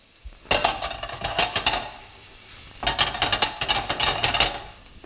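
Garlic and base ingredients frying in a pan, with a soft steady sizzle under two bursts of brisk scraping and stirring, each lasting a couple of seconds with a short pause between.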